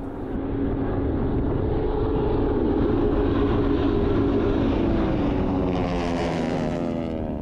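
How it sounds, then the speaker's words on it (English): Propeller airplanes at the Sun and Fun air show produce a loud, steady, close engine and propeller drone throughout, with a brighter whine rising near the end. "So I took it to the airport to film some planes during the Sun and Fun air show."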